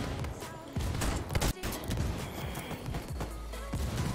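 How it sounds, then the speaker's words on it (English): Shotgun blasts in a Gears of War match, several sharp bursts mixed into chaotic game combat noise, with a commentator talking over the action. "let's see what he can do with his shotgun"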